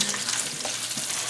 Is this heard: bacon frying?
yes